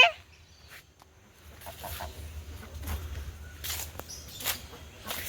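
Ducks quack in short, scattered bursts over a low, steady rumble, moderately close and not very loud.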